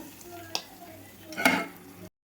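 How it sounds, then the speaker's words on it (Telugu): A hot tempering goes into lentil dal made with greens. Two short bursts of sizzle and clatter sound close by, then it cuts to silence. "చూడండి తాలింపు మొత్తాన్ని ఇట్లా వేసేసుకున్నాం కదండి"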